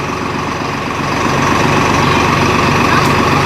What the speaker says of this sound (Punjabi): ਕਿਵੇਂ ਕੰਮ ਕਰ ਰਿਹਾ ਟਰੈਕਟਰ ਦੇਖੋ